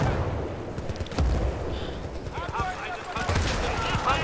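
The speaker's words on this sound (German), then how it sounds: "ich werde beschossen" Gunfire from the multiplayer video game Battlefield Bad Company 2, with scattered shots and bursts of varying loudness mixed with game noise and someone talking over it throughout.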